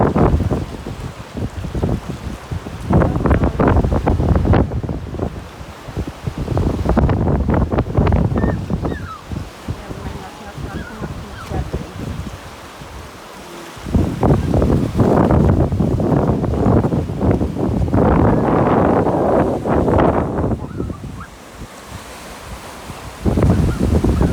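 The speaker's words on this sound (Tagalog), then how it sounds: "Mahangin dito sa dagat." Strong wind buffets the microphone in gusts at Whale Bay beach, Southampton, Bermuda, with surf rumbling underneath; loud, rough bursts rise and ease repeatedly.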